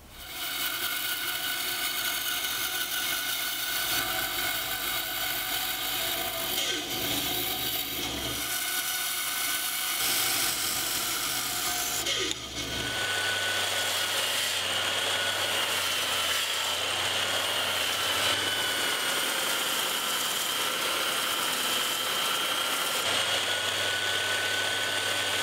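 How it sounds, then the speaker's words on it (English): A bandsaw cuts wood for a guitar hanger, a continuous close mechanical whir with a grinding, rasping edge that shifts in tone midway as the cut changes, running steadily with no talking. "use it as a pattern to trace a line for my next cut on the bandsaw"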